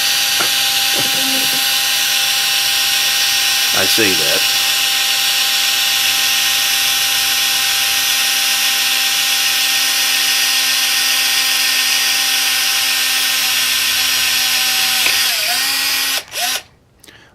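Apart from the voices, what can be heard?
power drill drilling during a car sound system install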